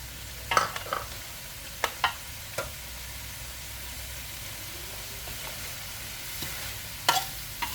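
Catfish and bitter melon curry with basil leaves stirred in a pot, a soft spoon scraping and clinking in a few short bursts over a faint steady simmer, with no one talking.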